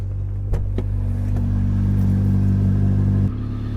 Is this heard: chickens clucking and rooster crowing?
no